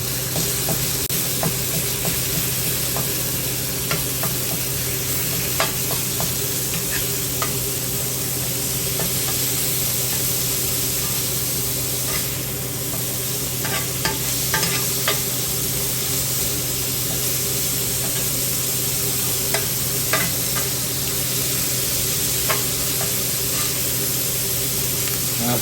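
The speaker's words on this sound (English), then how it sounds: "We'll start chopping them up." Meat and onions sizzling on a griddle as they are chopped for chopped cheese sandwiches, a loud, steady hiss of frying that runs the whole time, with faint scattered scraping and tapping from the chopping.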